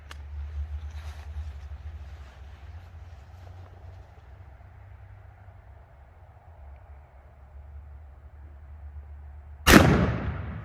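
A muzzleloader rifle loaded with a Pyrodex pellet fires one sharp, loud blast near the end, following a long stretch of low steady hum and faint background noise.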